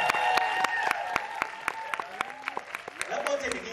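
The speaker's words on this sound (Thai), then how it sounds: "ใครชอบชื่อนี้ขอเสียงปรบมือหน่อยครับ" Scattered audience applause at a Thai zombie war film press conference, a burst of clapping with sharp individual claps, heard under a voice and other talk throughout.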